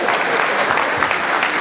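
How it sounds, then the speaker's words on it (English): Steady, loud applause from a large audience at a TV launch event in Abuja, a dense continuous wash of many hands clapping with no break. "please give him a round of applause"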